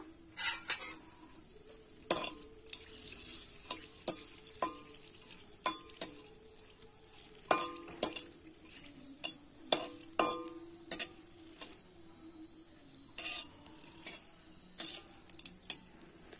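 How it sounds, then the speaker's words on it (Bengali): Two dried red chillies fry in hot mustard oil, a soft sizzle running beneath frequent scraping and tapping of a spatula against the pan, irregular and close. "এবারে কিন্তু দুটো শুকনো লঙ্কা আমি আগে ভেজে নেব"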